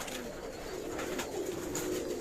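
Pigeons cooing among a loft of prized high-flying pigeons in Karachi, a soft continuous low murmur of overlapping coos, fairly faint and steady throughout with no talk.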